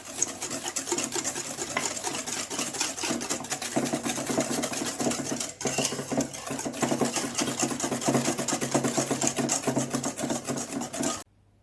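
Chocolate cake batter with 250 g of sugar being stirred in a bowl makes a continuous close, rhythmic scraping and rubbing that pauses briefly in the middle and stops at the end.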